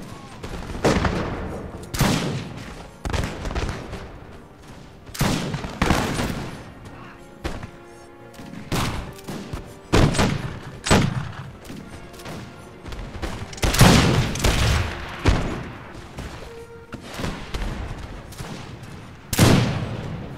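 Musket volleys in Empire Total War, with repeated loud crackling bursts of massed gunfire and booming reports that come in irregular waves over steady battlefield noise.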